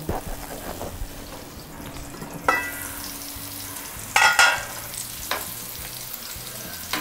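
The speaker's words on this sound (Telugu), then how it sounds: "ఇంకొక 5 మినిట్స్ మూత పెట్టి వేయించుకుందాం." Stuffed bitter gourds fry in a covered pan, giving a soft, steady sizzle and crackle with a few sharper bursts of spitting oil partway through.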